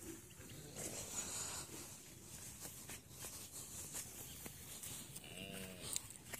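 Cattle on a farm give a faint, distant moo near the end over low background noise and rustling.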